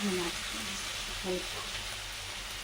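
Okra (bendakaya) frying in a pan, a steady soft sizzle held at low-moderate level throughout, with faint voices murmuring underneath.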